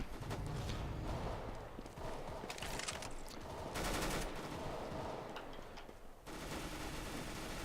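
MAC-10 submachine gun firing in Counter-Strike: Global Offensive, rapid bursts of automatic fire repeating across the clip at moderate volume, mixed with footsteps and other in-game action noise.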